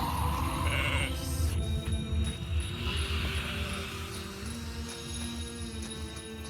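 Sheep bleat in the horror game One Eyed Likho, a wool-bearing ewe wearing bells, heard amid a dense, steady bed of game ambience and mechanical background noise with no talk.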